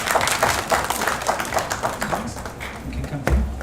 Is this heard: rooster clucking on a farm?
no